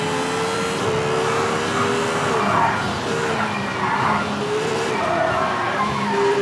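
A BMW rally car engine in V-Rally 4, a continuous loud engine drone with shifting revs and tire noise, steady throughout with no pauses.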